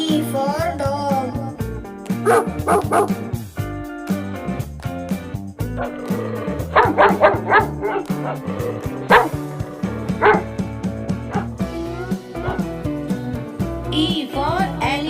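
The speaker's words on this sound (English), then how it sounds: "D for dog." A dog barks and yips repeatedly, short sharp calls spread across the clip, mixed with a cheerful music bed.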